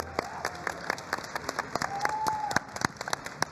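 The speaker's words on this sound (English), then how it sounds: "Give yourselves a round of applause for showing up." Audience applause at BlizzCon 2015, a hall crowd clapping in a steady scattered patter with a few cheers and whoops rising over it, moderately loud and sustained.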